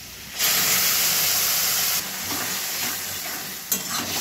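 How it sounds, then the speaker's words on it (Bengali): Paneer frying in a pan with salt, turmeric and spices, stirred as it cooks; a loud, close sizzling hiss with a sharp burst at the start and brief surges as ingredients are moved, no talk. "দিলাম লবণ, হলুদ, লাল করে ভাজতে হবে"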